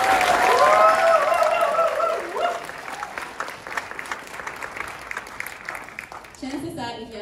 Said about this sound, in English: give them another wonderful round of applause.